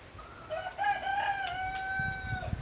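A rooster crows once in a long drawn-out call, moderately near but fairly quiet, with faint rain and outdoor ambience as a storm approaches.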